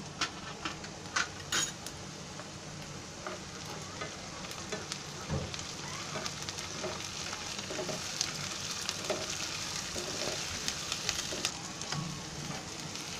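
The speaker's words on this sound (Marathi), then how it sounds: "त्याच्यामध्ये आता मी अद्रक लसूणची पेस्ट टाकते" Onion and ginger-garlic paste fry in a pan for a Marathi vaali shenga bhaaji, giving a continuous soft sizzle with scattered crackles and a few light stirring clicks close by, with no voices.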